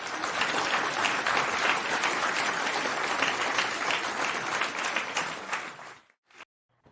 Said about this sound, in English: I love the clapping.